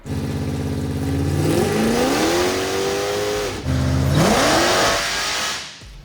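A Hellephant-engined Supra on a dyno revs hard to redline twice, the loud engine note climbing steeply each time with a brief break between pulls, then dropping away at the end.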